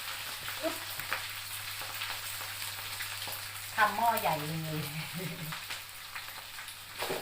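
Steamed rice with ginger is stir-fried in a big pot, giving a steady sizzle with scraping stirs and a brief clatter midway, while someone talks over the cooking.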